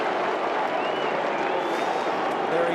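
Broadband crowd roar fills a packed AFL football stadium during Port Adelaide versus Hawthorn as Burgoyne runs around the corner, a steady, dense wash of cheering and applause without a break.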